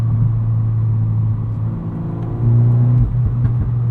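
A 2022 Volkswagen Golf R with a 315-horsepower engine and six-speed manual revs hard toward redline, its deep, steady drone climbing and then surging louder near the end, close and clear with no voices.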